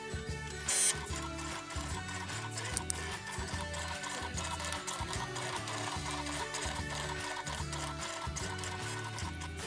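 A Cricut Maker drawing a bookmark design with a black marker, its carriage motor whirring and clicking in a steady repeating mechanical rhythm, close and moderately quiet with no voices.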